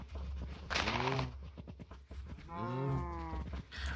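Cows in the video game Minecraft moo twice, two drawn-out lowing calls close and fairly loud, separated by a brief gap with faint game noise underneath.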